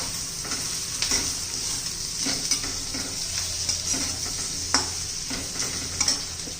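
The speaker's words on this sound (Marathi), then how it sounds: "आता बटाटा घालून घेऊया" Diced potatoes frying in a pan with turmeric for a dry Marathi potato bhaji, a steady close sizzle broken by repeated scraping stirs of a spoon against the pan, no voices.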